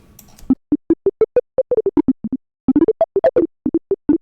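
Short plucky wavetable synth notes play in a quick, uneven rhythm, each one a sharp tonal blip with a fast decay, separated by silence.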